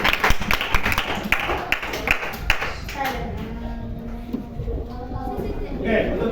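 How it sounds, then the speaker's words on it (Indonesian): Schoolchildren in a classroom during a physical education lesson clap their hands in a short burst of applause, distinct claps for a few seconds that give way to voices talking. "Boleh kembali tepuk tangan"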